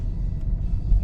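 Peugeot 508 SW of about 110 horsepower, an underpowered engine in an empty car, under full throttle: a steady, low, muffled engine rumble heard from inside the cabin, brief and without talk.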